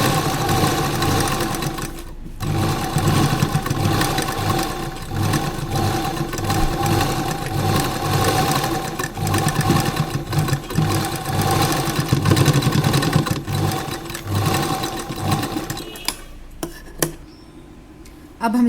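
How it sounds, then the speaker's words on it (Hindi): Sewing machine running steadily as it stitches close along the edge of a dress collar, a continuous rapid mechanical whir and clatter with brief pauses, then stopping near the end. "इस कॉलर पर भी एक सिलाई लगाइए, एकदम किनारे किनारे और अच्छी फिनिशिंग से सिलाई लगाइए"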